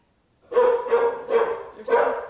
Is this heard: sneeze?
no